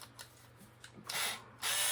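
A Hart 4-volt cordless screwdriver, brand new out of the package, whirs in two short bursts, a brief run and then a longer one, with faint clicks before them.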